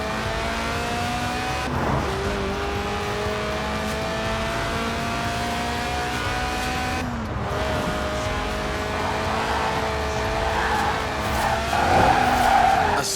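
A Lotus Elise Sport 190, a mid-engined rear-wheel-drive roadster in Forza Horizon 4, slides with a sustained tire squeal over its droning engine, the pitch sweeping as it drifts, loud and continuous with no speech.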